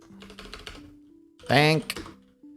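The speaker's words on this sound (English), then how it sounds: "Look at this pro typing right here." Brief bursts of quick clicks from typing on a computer keyboard, fairly faint and heard alongside a person speaking.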